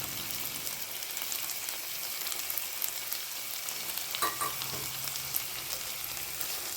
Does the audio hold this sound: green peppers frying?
yes